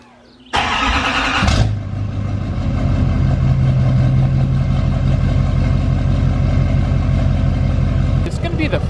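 A 2020 Duramax diesel pickup with engine modifications and mud tires cranks briefly, catches and settles into a loud, steady idle that rumbles on close by until the end.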